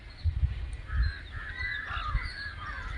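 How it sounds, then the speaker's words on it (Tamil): Birds calling at a lakeside bird sanctuary, with honking, goose- or crow-like calls over a steady outdoor bed of chirps and twitters, several calls overlapping at moderate distance. "பறவைகள் தான் இங்கே இருக்கும் இது பறவைகள் சரலா சரணாலயமாகவே இருக்கும்"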